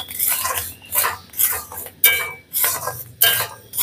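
Rice puffing into muri in a hot kadai is stirred in quick, rhythmic strokes, each one a short rattling, scraping swish of grains against metal, repeating about every half second.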